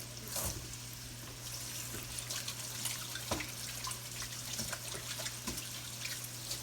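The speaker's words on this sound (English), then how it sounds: "Now, wash my hands here." Hands being washed under a running kitchen tap, a faint steady stream of water with soft splashes and drips, close with no talking.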